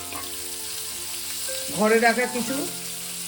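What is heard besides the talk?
chopped onions and green chillies frying in oil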